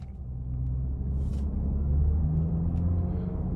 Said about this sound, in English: let's go ahead and take this 2025 Nissan Murano SL out on the road for a test drive